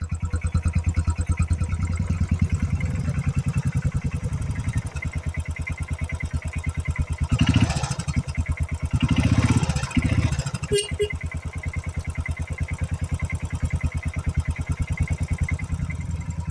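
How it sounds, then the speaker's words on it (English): A Royal Enfield Bullet 500 Classic motorcycle engine runs nearby with a steady, fast low thump throughout, its pulse briefly rising mid-clip before settling back. "So this is my Royal Enfield Bullet 500, classic 500 Bullet."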